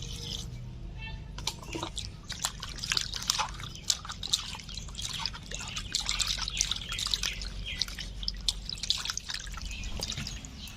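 Fish being washed by hand in water during village-style cooking on a winter morning, with steady dripping, trickling and splashing that runs continuously and close up, with no talk over it.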